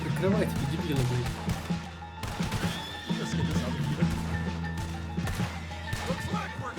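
Horse neighing and whinnying in the video game Red Dead Redemption 2, with hoof clip-clops under loud in-game music, gunfire-like crashes and character voices throughout.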